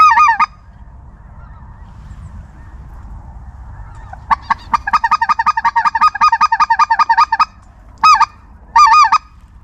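Snow geese honking in rapid, rhythmic bursts over a low rumbling background during a duck hunt in Gueydan, Louisiana, with scattered calls before a dense flurry and a few final honks.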